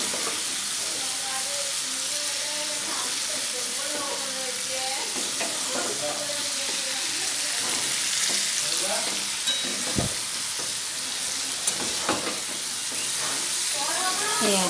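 Raw mango pickle fries steadily in hot oil, a continuous loud sizzle and hiss with occasional stirring scrapes and clinks, while a voice talks intermittently over it.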